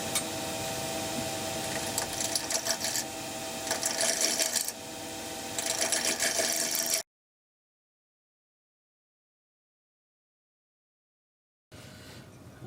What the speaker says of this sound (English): I'm just going to use a spindle gouge.